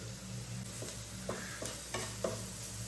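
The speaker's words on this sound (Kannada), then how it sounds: "ಇಲ್ಲಿ ಒಂದು ಈ ನೀರುಳ್ಳಿ ಚಿಕ್ಕದಾಗಿ ಕಟ್ ಮಾಡಿ ಇಟ್ಕೊಂಡಿದ್ದೇನೆ ಅದನ್ನು ಹಾಕೊಳ್ತಾ ಇದ್ದೇನೆ" Chopped onion sizzles in oil on a hot tawa, a steady soft frying hiss with a few light stirring scrapes, close and alone.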